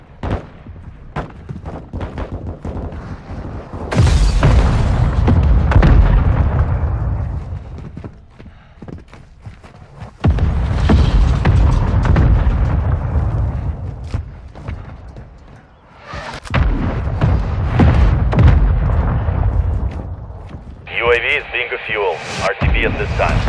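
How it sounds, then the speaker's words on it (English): Deep booming blasts from a mortar strike in Call of Duty: Warzone 2 hit in several heavy, rumbling bursts that swell and fade, mixed with sharp gunfire cracks and game noise, and a voice talks between them. "Hostile mortar strike near your position."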